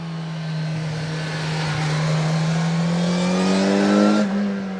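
A Kawasaki Ninja 1100SX SE motorcycle with an enlarged engine runs with a loud, close, smooth drone that climbs steadily in pitch as it pulls through the revs, then eases off near the end, with no talking.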